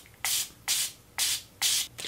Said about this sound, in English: It's kind of like a hairspray, but with leave-in conditioner.